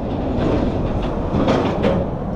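Freight train wagons rolling at Southampton dock, a steady rumbling clatter of wheels with faint metallic squeaks, fairly close and without talk.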